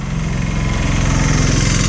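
A KTM Duke 250 single-cylinder motorcycle engine running steadily at idle, loud and close, with a rapid even thumping pulse and a buzzy mechanical drone, no voices over it.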